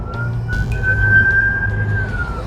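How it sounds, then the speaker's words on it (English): Ambulance siren wailing as emergency vehicles pass through congested UK traffic, a single steady tone rising and holding over a low road rumble, fairly loud and close. "that's 4 ambulances gone by"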